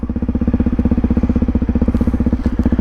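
A 300cc two-stroke enduro motorcycle engine runs steadily at close range, putting out a loud, fast, even pulsing beat with a slight dip and recovery near the end.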